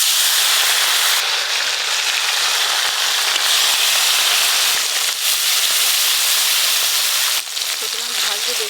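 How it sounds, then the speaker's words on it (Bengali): Small fish frying in hot oil, a steady dense crackling sizzle that fills the whole stretch, close and loud, with no talk over it. "এই মাছগুলো এবার ভেজে নেব।"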